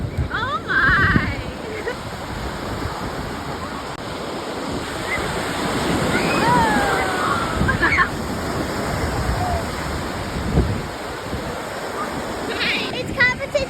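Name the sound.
ocean waves at Neshotah Beach, Lake Michigan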